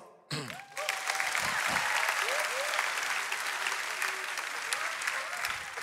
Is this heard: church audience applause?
yes